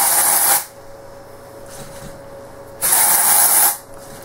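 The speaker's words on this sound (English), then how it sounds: "When spraying dry shampoo, you want short bursts." Dry shampoo aerosol sprayed in two short hissing bursts with a quiet pause between them, close and fairly loud.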